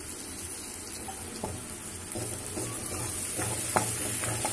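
Chopped onions sizzle and fry in a pan for an Indian egg and leafy greens curry, a steady close crackle with stirring scrapes and clinks, no voices.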